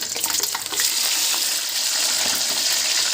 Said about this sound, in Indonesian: paruh yang udah kita ungkep atau kita rebus tadi udah saya potong-potong tipis dan akan saya goreng